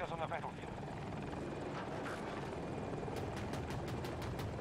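A Super Hokum helicopter in a video game flies with a constant rotor and engine drone beneath steady game noise, while players talk over it throughout.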